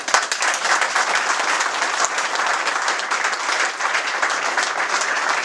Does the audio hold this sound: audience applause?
yes